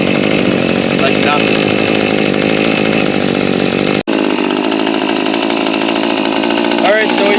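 A Maruyama MM24 string trimmer's small two-stroke engine runs loudly and steadily close by, with a brief cut partway through before it carries on idling; someone talks over it.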